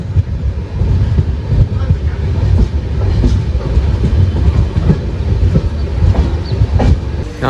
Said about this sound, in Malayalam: നമ്മൾ പതുക്കെ ഉരുട്ടി വടക്കാഞ്ചേരി സ്റ്റേഷനിലേക്ക് കയറുവാണേ.